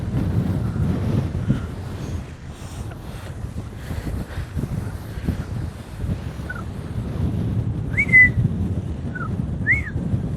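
Wind whistles across an open landscape in Mongolia with several short rising tonal whistles near the end over steady rumbling wind noise on the microphone.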